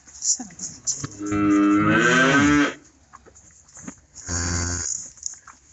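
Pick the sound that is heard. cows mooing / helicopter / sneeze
cows mooing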